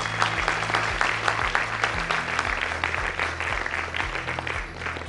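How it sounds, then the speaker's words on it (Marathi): Loud, steady applause from an audience at a Marathi cultural stage programme, many hands clapping densely and continuously throughout, with a low musical drone pulsing underneath. "जोरदार टाळ्या"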